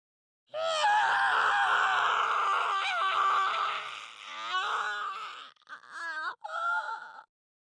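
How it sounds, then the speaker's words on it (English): A character in the visual novel Steins;Gate screams in agony, a long loud strained wail that falters into broken groans and shorter anguished cries, heard alone against silence. "I scream until my throat is raw."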